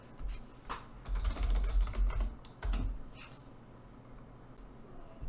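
Text is typed on a computer keyboard in a file in Visual Studio Code, with quick clusters of soft key clicks in short bursts and brief pauses, close and fairly quiet, with no voices.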